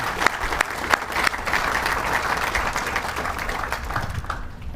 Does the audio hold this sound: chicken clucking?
no